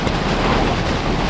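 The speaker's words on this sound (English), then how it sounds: "yeah, it's bloody windy." Strong wind blows across Lake Eildon, a dense continuous roar buffeting close and loud with no pauses or voices over the brief stretch.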